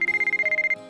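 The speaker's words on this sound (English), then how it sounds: "My cell phone's been ringing for a while." A cell phone ringtone chirps in a rapid pulsing electronic pattern of about a dozen quick beeps, then stops, heard alone within a visual novel game scene.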